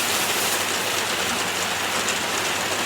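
Rain falls in a dense, constant hiss of many drops, even and unbroken from start to end, with no one speaking.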